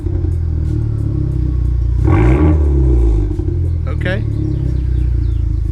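A Honda Civic Type R with its stock downpipe rumbles at idle, then revs once in a loud swelling blip that falls back to a steady idle. A short spoken word comes near the end.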